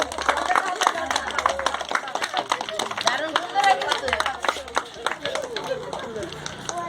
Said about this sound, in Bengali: হাততালি দাও হাততালি দাও